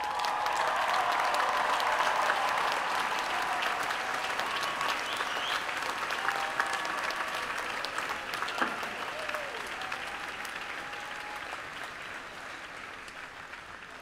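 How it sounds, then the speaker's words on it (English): A large graduation audience at a university final exercises ceremony applauds in a dense, sustained wave of clapping that slowly fades over about fourteen seconds, heard from within the crowd. "give a round of applause to those who helped you on this journey"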